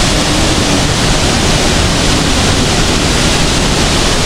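Hulugan Falls is a loud waterfall that roars in a steady broadband rush with no pauses or voices, and it fills the whole short stretch.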